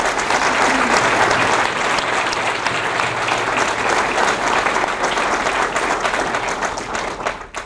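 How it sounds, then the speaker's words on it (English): Loud, sustained audience applause fills a groundbreaking ceremony for a medical school in Texas, dense clapping holding steady for several seconds before tapering off at the end. "Let's give this vision an applause."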